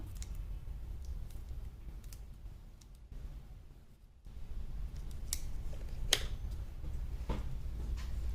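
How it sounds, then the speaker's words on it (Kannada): Scissors trimming jute fabric for a handmade flower, a few soft snipping clicks close by over a steady low background hum, no talking. "ಇದನ್ನು ನೀಟಾಗಿ ಟ್ರಿಮ್ ಮಾಡ್ಕೊಂಡ್ಬಿಡೋಣ ಸ್ವಲ್ಪ."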